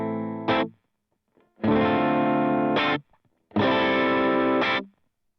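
Electric guitar played with a clean tone through an HX Stomp patch in a worship-style rig: a short strum, then two sustained ringing chords of about a second each with silent gaps between, close and fairly loud.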